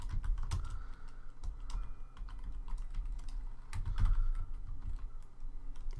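Fast, uneven typing on a computer keyboard, close up, with bursts of clicking keystrokes and brief pauses and no talk.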